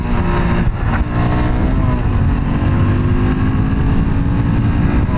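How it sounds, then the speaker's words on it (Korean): A Honda Super Cub motorcycle downshifts and accelerates to overtake on a road, its small engine droning loud and steady with a rising tone, heard up close from the rider's position under constant wind rush. "기어를 내리고 2차로 추월 한번 해봅시다."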